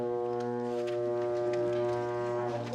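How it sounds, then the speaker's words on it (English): A euphonium played solo by a student at a middle school band winter concert: one sustained, mellow low brass note held steadily and fairly loud, alone for almost three seconds. "Elsa, let's hear how the euphonium sounds like."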